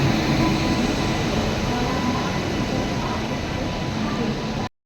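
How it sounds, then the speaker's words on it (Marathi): The Konkan Kanya train arrives at the station with a loud, steady rumble of rolling wagons and wheels close by, ending abruptly; crowd voices murmur underneath. "आपली ट्रेन आली."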